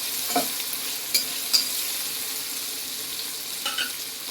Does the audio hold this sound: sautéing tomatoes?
yes